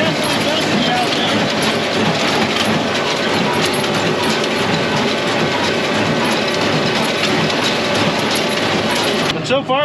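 A hay baler works through a dusty field while baling, a continuous loud mechanical clatter and rumble with rhythmic knocking, steady throughout and heard alone.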